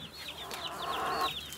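Chickens clucking in a henhouse, several close, busy birds giving short repeated clucks and chirps in a continuous flurry, with no talk.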